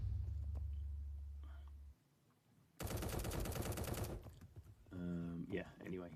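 Bursts of rapid gunfire from the shooter video game Mini Royale crackle in loud clusters, with a dense automatic volley in the middle and a sharper rattling burst near the end, separated by quieter gaps.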